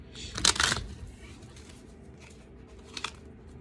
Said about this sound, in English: Let me go ahead and shuffle and then get a message.